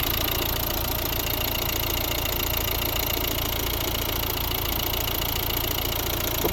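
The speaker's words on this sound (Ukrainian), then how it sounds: "Робота двигуна ідеальна." A steady, close idle of a 2012 Volvo V60 1.6 diesel engine with a rough, knocking diesel clatter, unchanging throughout, with no voices.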